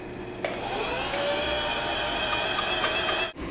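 A Singer mini household sewing machine winding thread onto a bobbin, a continuous steady motor whine and hum up close that stops abruptly at the end, with no talking.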